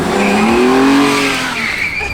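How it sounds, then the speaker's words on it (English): A V12 car does a burnout, its engine roaring loud and close while the tires squeal continuously for two seconds. "thanks Zach for that sick ass burnout"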